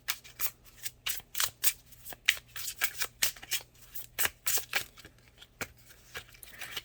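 Tarot cards being shuffled by hand, a quick run of soft riffling and slapping bursts in an uneven rhythm, close and fairly quiet, with no talking.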